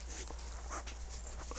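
A dog whimpers faintly in a few short, soft whines against steady background hiss and hum, with no clear talking over it.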